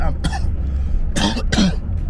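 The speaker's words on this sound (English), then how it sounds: "Still got this cough, man." Several harsh coughs close to the microphone, a couple of short bursts separated by brief pauses.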